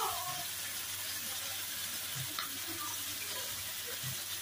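Liquid is poured into a hot cooking pan while cockles are cooked in spicy soy sauce, giving a soft, steady hiss of pouring and light sizzling, faint and unbroken throughout.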